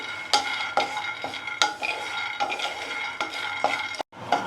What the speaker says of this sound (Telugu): చూడండి ఆల్మోస్ట్ ఇవి వేగిపోయాయి కదా.